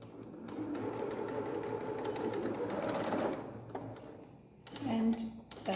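A sewing machine runs in a steady buzzing burst while back-stitching fabric for a sound-absorbing blanket, then stops, followed by brief handling clatter and a voice.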